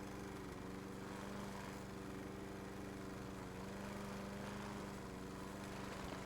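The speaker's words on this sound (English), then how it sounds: "I'm just happy to be mowing" A lawn mower engine drones steadily throughout a video game's mowing session, a continuous, close motor hum with a constant pitch and no pauses.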